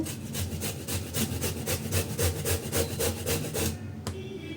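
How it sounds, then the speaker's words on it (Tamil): A bottle gourd, cut into pieces, is rubbed over a grater in a steady run of rasping strokes, loud and close, for making a Gujarati steamed dumpling dish; no talk. "இதே போல் துருவி எடுத்துடலாம் இதே போல் இது எல்லாத்தையுமே துருவிட்டு காட்டுறேன்"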